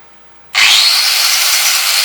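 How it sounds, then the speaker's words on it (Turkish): A power grinder starts abruptly and keeps running with a steady, high-pitched whine, loud and close, with no voices. "Bir de ispiral çalıştıralım."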